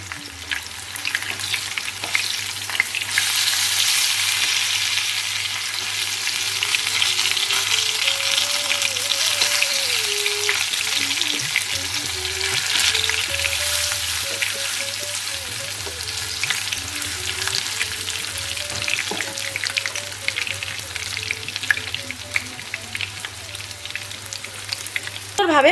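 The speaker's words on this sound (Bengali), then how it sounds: "মুচমুচে করে ভাজা হয়ে গেছে" Pumpkin flower fritters coated in lentil batter deep-fry in hot oil, giving a loud, continuous close-up bubbling sizzle that holds steady without a break, with no voices heard.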